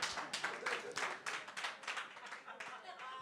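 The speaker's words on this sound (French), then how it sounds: "On applaudit très fort pour De Chapeau." Faint, brisk clapping at the Yoka Comedy Club, with uneven bursts of hands and a voice heard beneath the applause.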